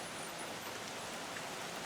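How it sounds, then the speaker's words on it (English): Steady, soft rain falls in a garden where tomato plants have just been set out, a constant broadband hiss with no voices, fairly quiet and even throughout. "it is already raining"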